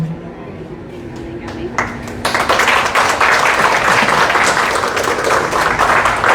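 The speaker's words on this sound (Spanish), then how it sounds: "Un aplauso fuerte para nuestro Dios, que es bueno." Applause from a church audience at a women's testimony gathering swells suddenly after a quiet murmur, becoming a loud, sustained wash of clapping with voices mixed in.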